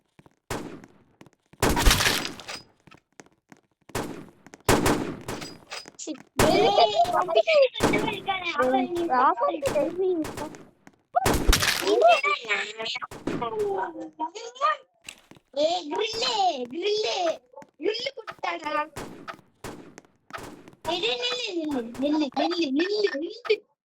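Gunfire and sniper shots ring out in a shooting video game as several sharp, loud bangs spaced apart by pauses, while a young voice chatters almost constantly.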